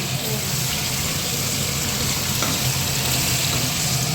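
Eggplant slices (begun bhaji) and fish fry in oil with a steady, close, broadband sizzle that holds evenly throughout.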